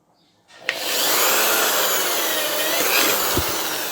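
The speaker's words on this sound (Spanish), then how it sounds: "Tomaré el taladro y en el centro" An electric drill whirs up after a brief quiet start and then drones steadily at a loud, constant pitch, boring a hole through the bottom of an aluminium tube.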